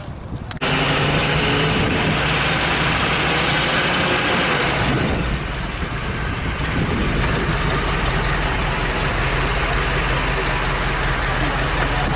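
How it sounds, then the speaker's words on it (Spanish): A 1972 Mercedes R107 350 SL engine starting and running at a steady, loud idle, with a deep continuous rumble heard up close for the whole stretch. "Vemos el motor de este Mercedes SL350."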